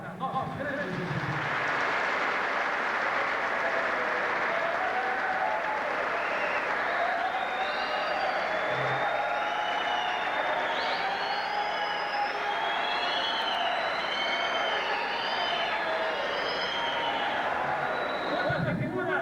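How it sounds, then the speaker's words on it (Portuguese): Sustained applause from a large crowd at an awards ceremony, loud and steady throughout, with scattered cheers and whistles rising above the clapping. "eu peço a todos vós aqui presentes uma salva de palmas"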